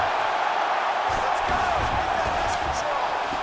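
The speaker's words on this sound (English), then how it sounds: "big pop from the crowd as they get back to their feet" A UFC flyweight title fight crowd roars in a dense, sustained wall of cheering as two grapplers get back to their feet, loud and continuous with scattered whoops rising above the arena noise.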